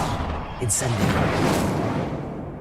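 An Incendio fire spell cast in Hogwarts Legacy gives a single sharp fiery burst near the start, which then rolls into a sustained roaring rumble of flame and game ambience.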